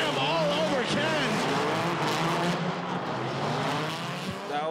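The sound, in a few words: drift race cars, V10 and supercharged V8 engines, tire squeal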